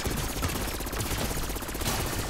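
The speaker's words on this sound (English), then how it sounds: "the SMG annihilates the Mangala" Rapid SMG fire in Call of Duty Black Ops 6, a dense stream of fast, loud rattling shots running almost without pause, up close and dominant.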